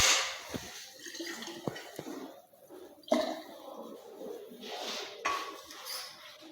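Distilled water splashes and swirls inside a glass conical flask during a titration in a chemistry practical, with sloshing, brief glassy knocks and running water, steady and close.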